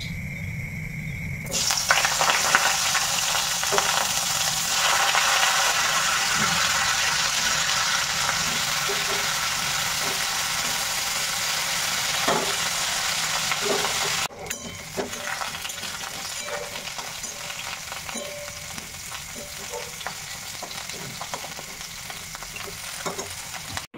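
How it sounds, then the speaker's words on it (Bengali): Boiled cauliflower pieces sizzle and crackle steadily as they fry in hot oil for a long stretch, with occasional stirring scrapes and a brief clatter partway through. "ফুলকপিটা সিদ্ধ করে এখন এবার দেখো ভেজে নিচ্ছি সুন্দর করে লাল লাল করে"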